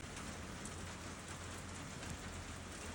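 Steady rain falls in wet weather around a horse yard, a dense, even hiss of drops on surfaces, faint and uninterrupted.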